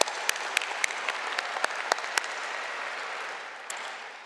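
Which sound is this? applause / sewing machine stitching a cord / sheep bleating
applause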